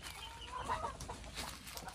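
Backyard chickens kept alongside ducks and geese make soft, scattered clucks, with a clearer call near the middle, over a steady outdoor background.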